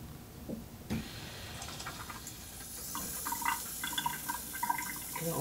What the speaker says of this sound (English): I'm going to go ahead and turn the water back on,